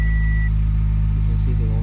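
A turbocharged 2008 Toyota Corolla engine running steadily, probably at idle, with a loud, close, continuous low hum and no change in pitch or revving.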